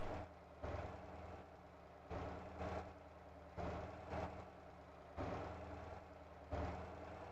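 A truck engine idles in the driving game Motor Town, a low, steady rumble with regular surges every second or so, fairly faint and with no voices.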